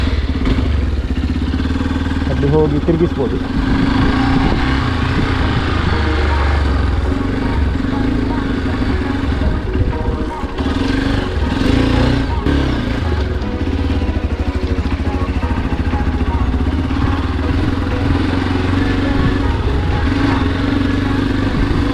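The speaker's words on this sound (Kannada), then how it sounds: "ಸೊ ಬೈಕ್ ಕೊಂಡೋಗ್ತಿದ್ದಾನೆ ಈಗ." A Hero Xpulse 200 4V motorcycle pulls away along a water canal by a coconut farm, its mid-pitched engine running steadily throughout with some clatter, while someone talks over it nearby.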